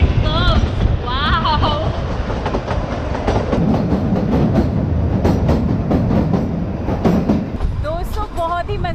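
The Kalka-Shimla narrow-gauge toy train rolling along its mountain line, a steady loud rumble with rhythmic clickety-clack from inside the carriage and passengers chatting over it.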